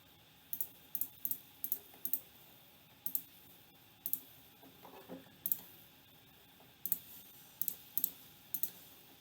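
Calculator keys are tapped one after another to enter a division with a square root, giving a series of small sharp clicks in an irregular rhythm, close and fairly quiet, with no speech.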